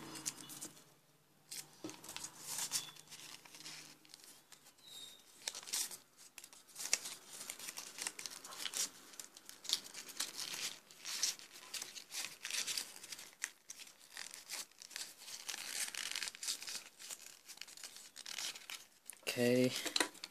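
Normal A4 paper being crumpled and stuffed into a papercraft figure's body, producing crinkly, rustling bursts that come and go in clusters, near and fairly loud, with brief pauses between handfuls.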